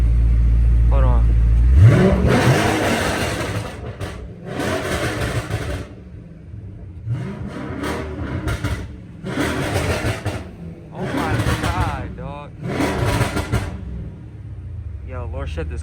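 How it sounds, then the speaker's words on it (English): A flame-tuned Dodge Charger Scat Pack, not yet warmed up, revs in several loud surging bursts separated by lulls, heard close with people talking and reacting excitedly between the revs. "I think we gotta give it a couple of revs real quick"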